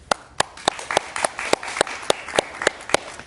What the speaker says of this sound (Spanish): Y lo recibimos con un fuerte aplauso, por favor.